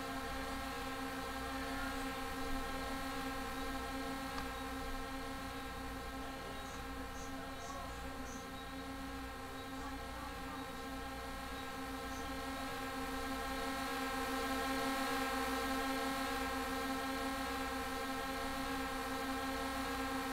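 A drone flying in a Blender UPBGE game, a steady droning hum with stable tones holding for the whole stretch and rising slightly in the middle.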